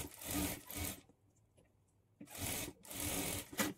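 A sewing machine runs in two bursts of steady whirring stitching along a folded half-inch edge of a blouse sleeve, with a short quiet pause between the runs.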